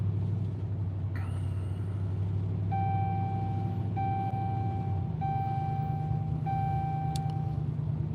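Steady low road rumble from a car heading north toward Minneapolis, with a continuous engine and tire drone and faint intermittent tonal beeps or chimes over it, no talking.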